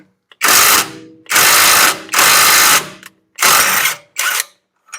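A ratchet undoing a bolt on a rusted Jaguar wheel hub, heard up close as five loud bursts of fast clicking, each lasting under a second and separated by short pauses, with no talking.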